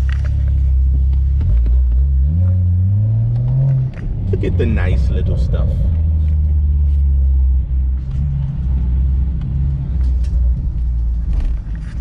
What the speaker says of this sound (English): let me park my car right here.